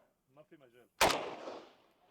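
A single loud gunshot fired at a bottle outdoors, sharp and close, with a decaying echo trailing off. A man's brief speech comes just before the shot.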